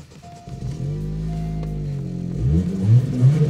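A Chevrolet C3 engine turns over and catches, then settles into a steady low rumble that swells slightly louder near the end.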